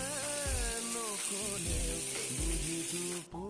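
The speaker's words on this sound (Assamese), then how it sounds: "এতিয়া এইখিনি ভালদৰে বিলাহীখিনি গলিয়ন হোৱালৈকে ভাজিম।" Tomatoes frying in a pan make a steady hissing sizzle across the clip, partly masked by louder tonal, melodic sound layered over the top.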